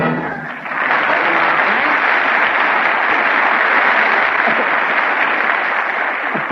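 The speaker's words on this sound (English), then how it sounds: "Well, Frank, you heard that applause." Studio audience applause following a song on a 1942 radio comedy show: loud, sustained, even clapping that swells in after a brief moment and carries steadily to the end.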